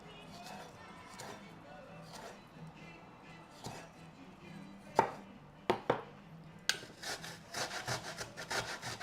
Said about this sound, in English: Let's cut some ginger.